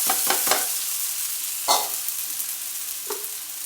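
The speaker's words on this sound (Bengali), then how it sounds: "এখন আমি যে সেমাইটাকে সিদ্ধ করে রেখেছি এটা আমি ঢেলে দিব।" Boiled vermicelli hits hot ghee in a pan and sizzles with a steady, close hiss, broken by a few sharp scraping stirs, no voices.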